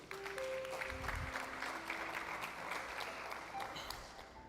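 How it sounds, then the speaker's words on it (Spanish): A church congregation claps together in sustained, dense applause that stays steady and fairly loud throughout, with a faint sustained musical tone underneath. "Dale un aplauso a Dios."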